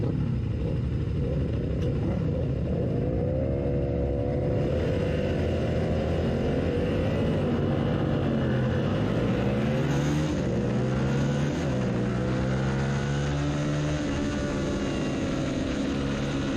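A high-revving lightweight-class racing motorcycle engine roars steadily during a race at Autobahn track, its pitch rising and falling through gear changes, loud and continuous without pause.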